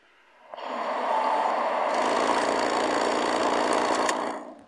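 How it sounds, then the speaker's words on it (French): A car engine idles steadily with a low, even rumble, starting after a brief quiet moment and fading near the end. "Donc juste écouter le moteur."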